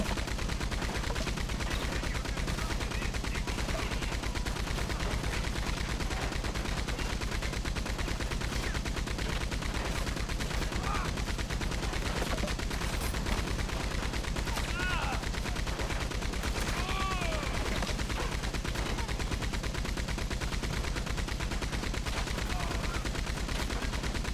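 Dense, continuous gunfire in the video game Red Dead Redemption 2, with rapid overlapping shots and rattling bursts packed into a loud, saturated wall of sound that never lets up.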